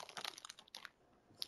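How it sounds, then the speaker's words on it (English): Someone bites and chews Olive Garden Italian Kitchen Signature Recipe seasoned croutons, with several short, dry crunches up close, followed by a pause and one final crisp crunch. "Why are you eating croutons?"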